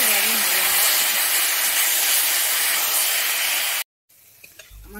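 Gathi kochu (taro) pieces frying in hot oil give a steady, loud hiss for nearly four seconds before cutting out abruptly, followed by quieter faint kitchen sounds.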